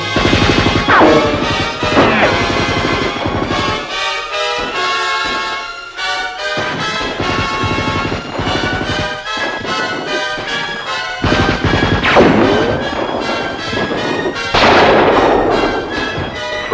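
Dense, continuous battle din from a film scene, with machine gun fire and crashing impacts layered over music, loud and sustained throughout with a few sharper bursts.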